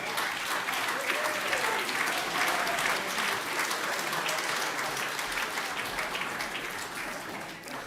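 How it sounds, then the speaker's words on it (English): Sustained applause from an audience at a 2025 awards ceremony as a presenter from Incom is called to the stage, dense clapping filling the room at steady loudness with faint voices underneath. "Give him a round of applause"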